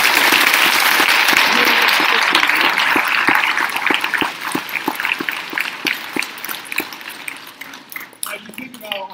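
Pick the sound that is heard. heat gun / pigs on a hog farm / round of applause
round of applause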